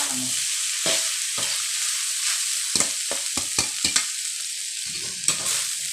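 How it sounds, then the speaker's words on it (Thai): Food sizzles steadily in a hot pan while a utensil scrapes and clacks against the metal in irregular strokes as jaew bong chili paste is stir-fried. "ผัดไปกันเลยจ้า"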